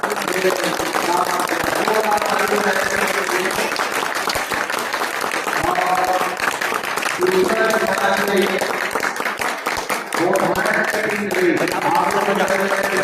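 An audience in a school hall claps for the winner of a Vedic mathematics quiz contest, a loud sustained burst of applause that fills the space, with voices speaking over it throughout.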